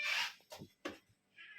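A cat meows indoors at home, one drawn-out cry followed by a couple of shorter meows and a final thin mew, close and fairly quiet with no talking.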